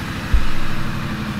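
A Triumph Street Scrambler motorcycle engine gives a short, steady low idle rumble up close, with a brief thump near the start.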